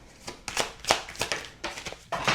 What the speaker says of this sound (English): I wonder if you guys can hear me shuffling in the background.